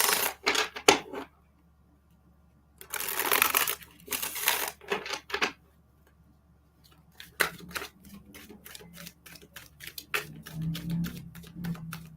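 Tarot cards riffle and snap in quick crisp bursts separated by short pauses, close by, with fast flicking runs.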